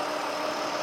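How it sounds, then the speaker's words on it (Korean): A Hyundai Equus flagship sedan engine idles in a brief, steady, smooth hum with no voices over it. "자 엔진 소리 한번 들려드릴게요 어 엔진 소리 되게 좋죠"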